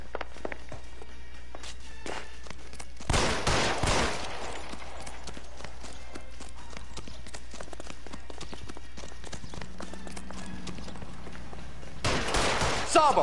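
Two loud, sharp bursts of gunfire ring out a few seconds apart in a tense standoff, each a short cluster of shots over a quiet background with footstep-like knocks in between.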